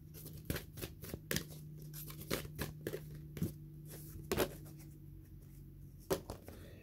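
Tarot cards riffle and snap in quick papery bursts, scattered irregular taps and flicks close by, with a low steady hum underneath and no voices.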